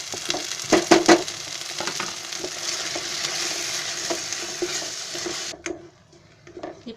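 Tomato paste sizzling and being stirred in a pan for a cabbage masala, a dense frying hiss with spoon scrapes and clinks, louder at first, then the sizzle drops away near the end.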